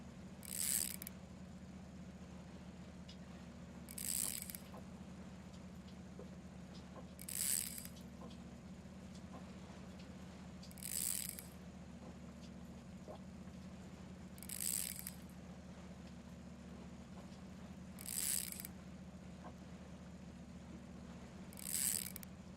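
In the video game Russian Fishing 4, a loosened fishing reel drag gives short bursts of ratcheting clicks, evenly spaced about every three and a half seconds, over a steady low background hum.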